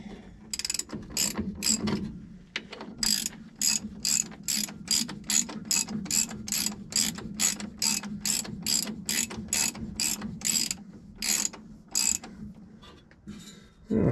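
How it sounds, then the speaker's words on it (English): Ratchet wrench tightening a bolt on a lifted squarebody Chevy truck outdoors, a long steady run of rapid clicking strokes in quick rhythmic bursts, close and fairly loud with no talking. "Tightening a bolt."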